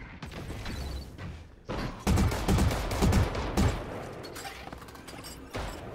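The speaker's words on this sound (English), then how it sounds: "Why are you shooting me like that, bro?" Rapid bursts of gunfire from the video game Valorant, several volleys in a row with sharp cracks and heavy low thumps, loud and close, with short gaps between them.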